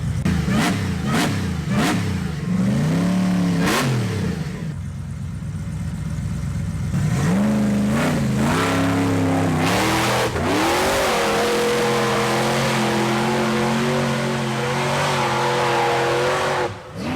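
Off-road vehicle with bolted rear tires revving hard while climbing a hill, loud repeated engine surges rising and falling, then a sustained high-revving roar near the end.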